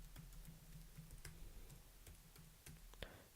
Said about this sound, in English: And I can just start typing here from nano.